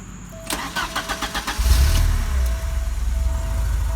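A car engine cranks and catches with a few rapid bursts, then settles into a loud, throaty idle through a newly fitted exhaust, close by with no talking.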